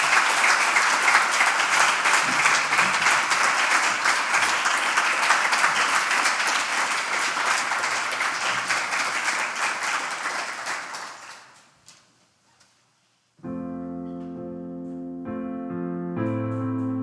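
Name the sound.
concert audience applause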